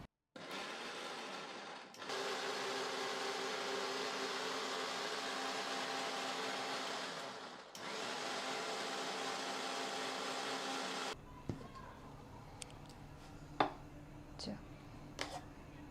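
A blender whirs loudly and steadily as it crushes muskmelon smoothie ingredients, pausing briefly and starting again before stopping, followed by quiet clinks and handling sounds.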